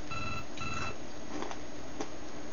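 A phone rings in a bootleg Game Boy Color Pokemon Diamond game, with two short bursts of chiptune trilling ring at the start followed by quieter electronic blips, alone without speech.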